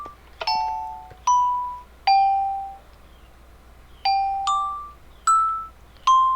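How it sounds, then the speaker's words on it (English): A Minecraft doorbell at a bank entrance chimes in a series of bright, ringing dings, roughly eight strikes in uneven pairs and singles, each decaying quickly, loud and clear with no talk. "Bit of a doorbell, and the door opens up."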